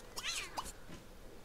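A cat meowing in The Sims 2 video game, one short, fairly faint rising meow followed by a softer trailing call.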